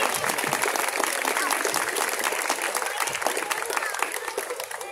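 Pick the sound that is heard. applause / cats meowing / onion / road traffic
applause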